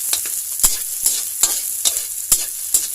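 Garlic and onions sauté and sizzle in a pan while ground pork and bitter melon dishes come together, a steady close frying hiss broken by regular stirring scrapes roughly every half second, with no voices.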